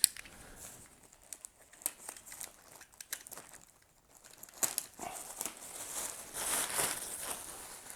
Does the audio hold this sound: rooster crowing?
no